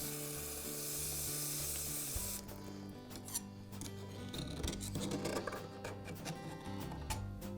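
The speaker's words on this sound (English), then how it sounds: "A little brake cleaner can be helpful to clean the gears." Brake cleaner sprays in a steady, loud hiss for about two seconds onto the greasy gears of a Milwaukee bandsaw gear case, followed by softer scraping and rubbing sounds nearby.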